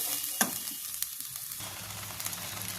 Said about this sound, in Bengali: গ্রেভিটা দিয়ে কিছুক্ষণ হালকা নাড়াচাড়া করব।